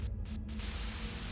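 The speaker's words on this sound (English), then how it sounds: "A sudden buzz of white noise breaks through the truck's silence." In the Limbus Company video game, a radio bursts into a buzz of white-noise static, cutting out briefly twice and then hissing steadily over a low mains hum, moderately quiet.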